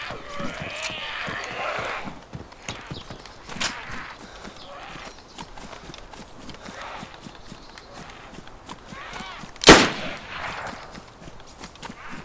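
Video game gunfire in DayZ, with a single loud shotgun blast standing out near the end over steady running footsteps and scattered fainter shots.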